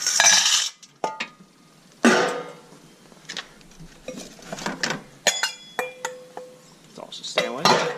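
Stainless steel scrap pieces and screws clink and clatter as they are handled and dropped at a scrap yard, sharp close metallic hits and ringing tones at irregular intervals, with someone talking between them.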